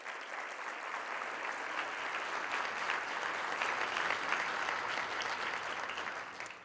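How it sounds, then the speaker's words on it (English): Conference audience applauds in a large hall, a steady wash of clapping that builds a little and then tails off. "So please give them a round of applause."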